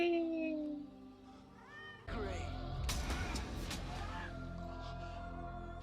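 A cat meows in a film scene from The Crow (1994), a short mewing call heard early and faintly amid dialogue and soundtrack, with a person talking over the scene.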